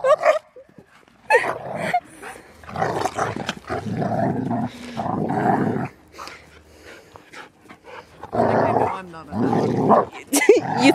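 Several dogs yip, whimper and bark in playful bursts close by, interleaved with a person talking between and over the animal sounds.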